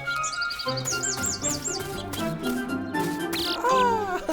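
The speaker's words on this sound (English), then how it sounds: "There's the little bird." A little bird chirps in a cheerful children's cartoon setting, quick rising tweets and trills over a light musical backing, clear and close with a short whistling flourish near the end.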